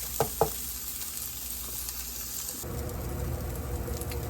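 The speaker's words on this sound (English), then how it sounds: "So I've chopped up the onions, and I'm going to get them softened" Chopped onions softening in a pan for a ground beef dinner, giving a steady close sizzle and crackle throughout, with two brief clanks near the start and a louder, denser frying hiss after the midpoint.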